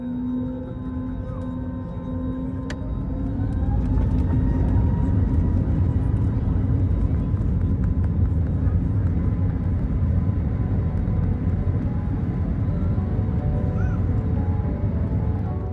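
Jet2 Airbus A321neo taking off from the Luton runway, heard from inside the cabin as the engines spool up into a loud, steady roar that swells and holds, with no talking.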